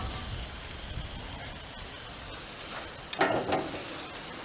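Food sears on the grate of a Weber grill with a continuous crackling sizzle, broken by a short burst of clattering handling noise partway through.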